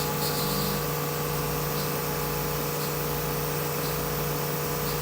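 A CNC router spindle spins at 9,000 RPM, giving a steady, even machine whine with a constant low hum and no voices over it.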